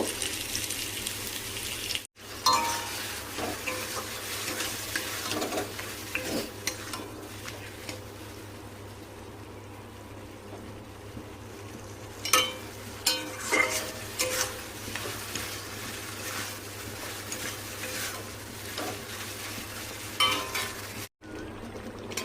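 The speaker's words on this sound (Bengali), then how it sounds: "তাই একটু আলু ভেজে নিচ্ছি, আলু দিয়ে করব" Potatoes frying in a pan at a home kitchen stove, with a steady close sizzle over a low constant hum, and scattered stirring scrapes and clinks throughout, no speech.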